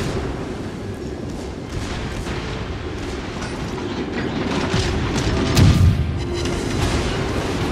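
Naval shell hits and explosions from the game World of Warships Legends form a continuous rumbling barrage of booms, swelling slightly louder near the end, with no talking.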